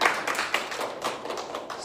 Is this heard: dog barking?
no